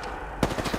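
Gunfire in Apex Legends: after a quiet moment, a sudden burst of rapid weapon shots rings out close and loud, quickly trailing into fainter repeated reports.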